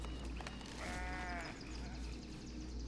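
Sheep bleat in the Foundation game, one wavering bleat of about a second standing out clearly over a steady low ambient hum, with no talking.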